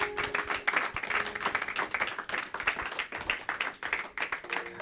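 A church congregation claps and cheers in praise of God, a dense continuous wash of applause with rhythmic clapping and crowd voices, close and loud throughout.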